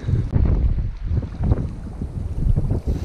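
Waves slap against a small boat off Møn in February, a close, rough wash of water thuds and splashes mixed with wind buffeting the microphone, continuous and loud, without speech.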